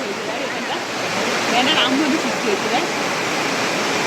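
Turga Falls pours down with cold water in a steady, broadband rush that fills the whole clip, close and loud, with faint voices audible underneath.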